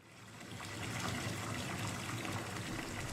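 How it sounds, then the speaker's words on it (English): Bath filling with clear hot water, a steady gushing stream from a tap that swells slightly louder after the first moment and keeps running without break. "The bath filled with clear, hot water"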